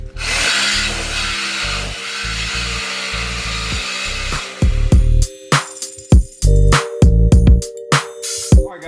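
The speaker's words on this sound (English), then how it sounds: "let's get to sawzalling this stuff off" A reciprocating saw cuts through an exhaust manifold and pipe on a 1987 Thunderbird, buzzing loudly in a steady stretch before breaking into short, choppy bursts with metallic clanks between them.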